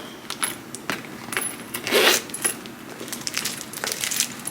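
A Nathaniel Noir luxury handbag zipper is drawn open in one short rasping pull, surrounded by light clicks and rustling of handling.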